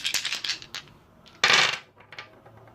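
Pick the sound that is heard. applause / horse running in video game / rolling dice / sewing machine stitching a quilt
rolling dice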